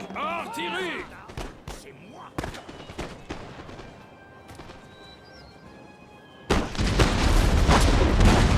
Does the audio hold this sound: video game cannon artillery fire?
yes